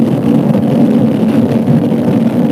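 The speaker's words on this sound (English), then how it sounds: "It has a 270 crank, which is quite good lah, I would say. The sound is very, very different." A CFMOTO 450SR motorcycle with a 270-degree crank rumbles in a steady, loud low drone, engine and wind noise blended continuously as if riding, with no speech heard.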